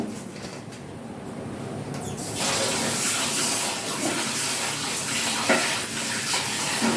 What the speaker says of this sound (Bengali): এবার আমি চাল ধুয়ে নেব।